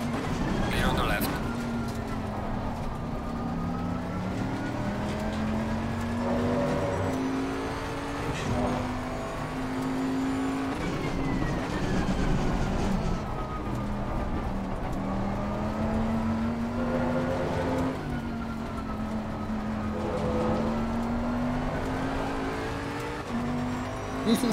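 Race cars lap Indianapolis in the sim racing game Assetto Corsa Competizione, with a continuous engine drone rising and falling through gear changes and a squeal here and there, up close under occasional talk.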